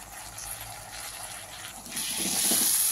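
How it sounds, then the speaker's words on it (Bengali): Washed rice is tipped into a pot of cooked spices and lentils, making a soft wet rush that swells into a louder watery pour near the end. "আমি চালটা ঢেলে দিলাম।"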